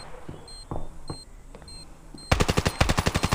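Gunfire in the mobile shooter Standoff 2: a few scattered single shots and blips, then a loud, rapid automatic burst of evenly spaced shots close up.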